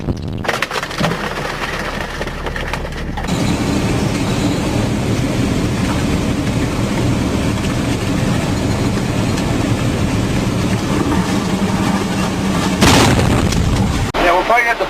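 An IED explosion in Afghanistan sounds as a loud, sustained roaring boom that rumbles for many seconds before fading, with soldiers' voices around it.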